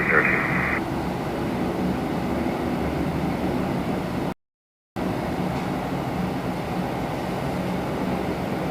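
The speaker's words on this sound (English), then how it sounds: "Jazz 693 from Boston, Embraer 175 coming in now" An Embraer 175 airliner, Jazz flight 693 from Boston, lands at Toronto Pearson in a crosswind, making a steady broad roar that holds throughout, with a short dropout midway.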